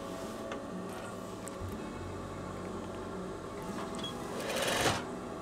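A sewing machine stitches a veterinary coverall with a steady, fast mechanical rattle close by, speeding up into a louder burst of stitching near the end.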